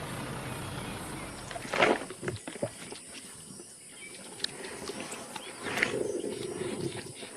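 White lions in the wild at a feeding site, low rumbling growls and roars rising from a busy outdoor background with scattered knocks and movement, fairly close and loud.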